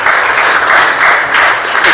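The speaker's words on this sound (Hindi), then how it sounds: "आप सभी की तालियां अगर बजती रहेंगी" Sustained applause from an audience at a Hindi welcome ceremony, steady and dense clapping filling the room at close range without pause.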